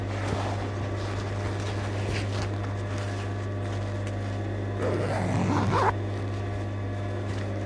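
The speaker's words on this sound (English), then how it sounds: "take your zip, pull it so far, hold your seam allowance, hold your zip, and then continue to pull" An invisible zip is pulled during sewing, giving one brief scratchy rasp near the end over a constant low hum, with no talking.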